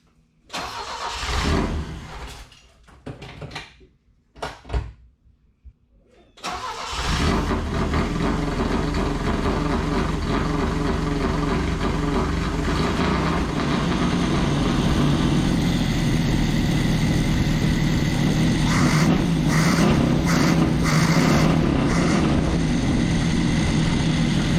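A Saab Sonett engine, running rich and smoky, cranks in a few stuttering bursts, then catches and settles into a loud, steady, somewhat rough idle while warming up, close by and with no talking.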